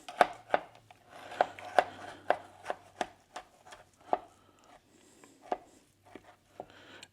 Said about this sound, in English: all we're going to do now is run a knife around the inside of the pan, sort of loosen things up a little bit